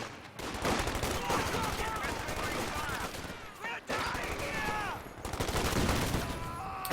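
Dense gunfire and explosions, including a rifle grenade, in a tank-combat video game match, forming a loud, continuous volley of shots with a brief dip midway and faint speech mixed underneath.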